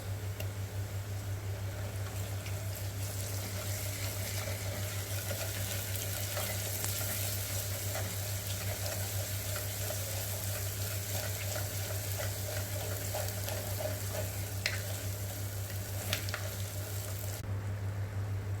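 Ginger garlic paste sizzles with browned onions in a clay pot, a steady low frying hiss running throughout with faint crackles and no voices.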